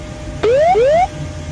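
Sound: aircraft cockpit terrain warning alarm, terrain pull up

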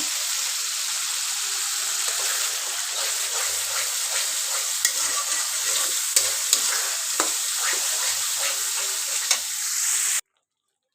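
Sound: spices being fried and stirred for biryani

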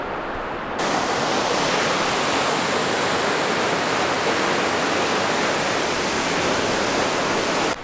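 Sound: mountain waterfall

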